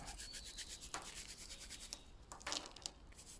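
Fingers rub the seed coats off a hemp palm seed, making a soft, faint, steady scratchy rasping with small irregular bursts, close up and alone.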